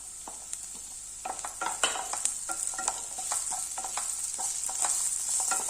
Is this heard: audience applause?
no